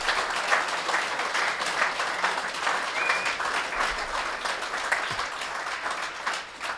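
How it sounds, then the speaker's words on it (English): A live-show crowd claps for rugby league legends Wally Lewis and Ryan Girdler, sustained moderate applause filling the whole stretch at an even level, with no clear talking over it. "Rounds of applause for Wally Lewis and Ryan Girdler."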